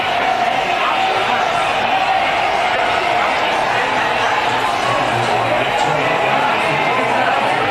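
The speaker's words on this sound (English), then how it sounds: "I hear cheering, so something good must have happened" Dense crowd cheering and whooping at a World Series baseball game in Houston, a loud steady roar of many voices that stays full throughout.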